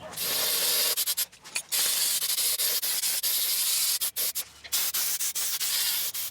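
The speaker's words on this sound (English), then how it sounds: "I want to spray some brake cleaner here" Brake cleaner sprays from an aerosol can in long, loud hissing bursts on a 1998 Chevy Lumina's front brakes, broken by short pauses and a few quick stops and restarts.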